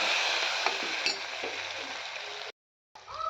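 A spice mixture of turmeric, coriander powder and red chili powder stirred in a hot pan for bhogichi bhaji gives a steady close sizzle with faint clinks, then cuts to silence before the frying hiss returns.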